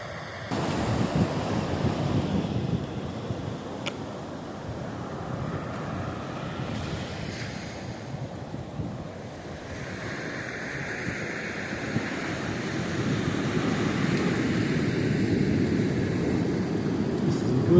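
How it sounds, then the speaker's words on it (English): Surf rolls steadily onto a beach along the Heysen Trail while a hiker walks the sand, a continuous wash of waves mixed with gusty wind noise on the microphone, growing slightly louder toward the end. "And now heading on the beach."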